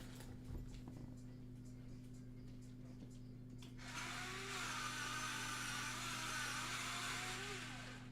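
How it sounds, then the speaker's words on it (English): A pencil being sharpened during a drawing session, a faint grinding rasp that starts midway and continues steadily over a low electrical hum, with quiet background sounds before it. "Let me sharpen this for a moment."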